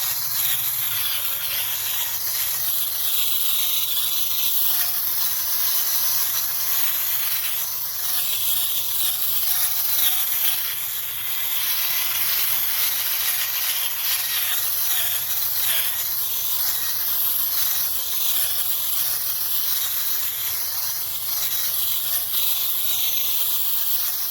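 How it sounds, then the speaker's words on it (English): An auger churning soil in a grow bag that holds old garlic roots, producing a continuous rough, gritty hiss that stays close and fairly loud throughout. "This is my auger, for those of you who don't know. I use this to stir it up."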